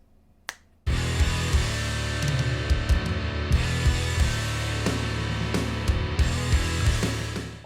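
A mixed kick drum from a home recording thumps in a driving pattern with other drum hits around it, punchy and close, beginning after a brief quiet lead-in with a single snap.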